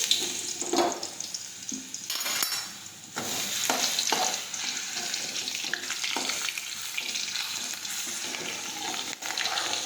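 Crushed garlic sizzles in hot oil for a Gujarati okra curry, a steady close hiss with scraping stirring strokes and occasional clinks throughout, no voices.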